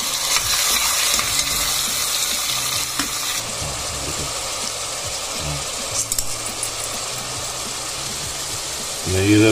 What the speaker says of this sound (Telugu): నెయ్యిలో ఫ్రై అవుతుంటే అబ్బా స్మెల్లే అదుర్స్ అన్నమాట